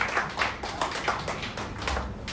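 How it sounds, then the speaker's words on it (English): An audience claps steadily through a round of applause at a Rotary Club anniversary gathering; the clapping is fairly faint and sounds like a room full of hands rather than one close clapper. "Please, another round of applause."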